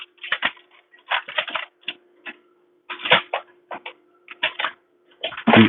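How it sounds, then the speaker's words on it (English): Keys clack in quick bursts on a Linotype machine keyboard, the typewriter-like strikes loud and close, with a steady mechanical hum running beneath and short pauses between the runs. "So when I type a couple of characters here"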